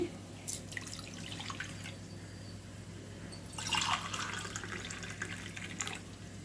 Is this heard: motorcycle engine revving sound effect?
no